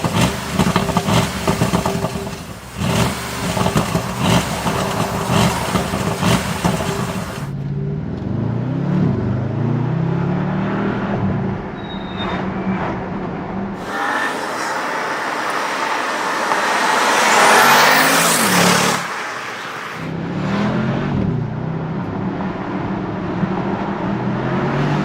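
A 2021 Bentley Continental GT Mulliner with a 550-horsepower engine launching hard in sport mode on a small road, engine note rising steadily and loud through the run, with shifting engine tones and a brief lull before it surges again.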